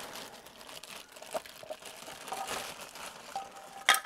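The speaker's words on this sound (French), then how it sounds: "Petit déballage." Packaging crinkles and rustles while a SvBONY SV14 spotting scope is unboxed, soft intermittent plastic crackles with a sharper crinkle near the end, close and quiet with no talking.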